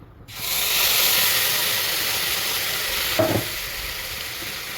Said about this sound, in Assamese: এতিয়া মছলাখিনি ধুনীয়াকৈ ভাজি লওঁ